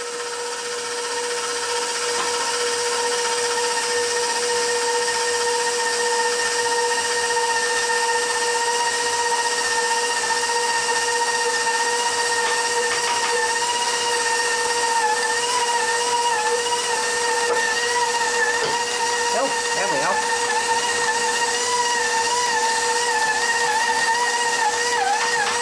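A stand mixer runs steadily, kneading sourdough cinnamon raisin bread dough, with a constant motor whine and grinding hum that holds at an even, fairly loud level throughout with no talking.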